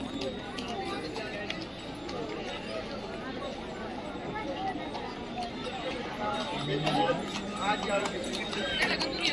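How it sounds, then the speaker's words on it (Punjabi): Horses clip-clop along at a busy Shimla tourist spot amid steady outdoor noise and crowd chatter, with the hoofbeats blending into the background din. "ਇਧਰਲੇ ਪਾਸੇ ਘੋੜੇ ਆ"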